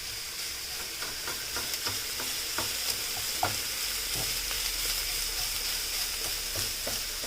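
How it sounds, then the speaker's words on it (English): Store-bought sausage sizzles and browns in a frying pan, a steady close hiss with scattered pops and occasional scrapes of stirring, continuous throughout. "Browning up the sausage."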